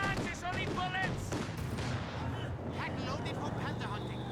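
Infantry gunfire in the World War II strategy game Company of Heroes 2, a dense run of rifle and machine-gun bursts crackling without pause beneath a loud battle mix, with someone talking over it and tonal whistles scattered through.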